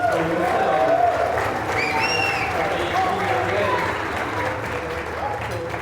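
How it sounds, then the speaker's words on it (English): A crowd at a Polish community meeting with the Orland Park mayor applauds itself, the dense clapping running steadily beneath someone speaking over it. "So you can make a big applause for yourself."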